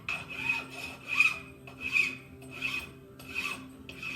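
A metal hammer head clamped in a vise is worked with a file, giving about six rhythmic raspy strokes, each a rising, scratchy scrape with a faint ringing squeal, close and alone.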